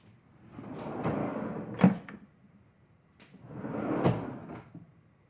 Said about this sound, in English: the sound of a kitchen drawer opening and shutting